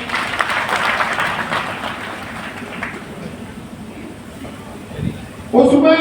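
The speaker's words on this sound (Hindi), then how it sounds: "पिंकी गुजर ताली बजा।" An audience at a Gurjar community award ceremony in Bharatpur applauds, steady clapping that fades out over several seconds, followed by someone speaking into a microphone.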